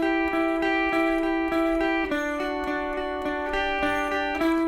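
Electric guitar picks the pre-chorus riff of a song, a repeating riff with steady plucked notes and sustained harmonics, shifting pitch partway through, played alone without talk.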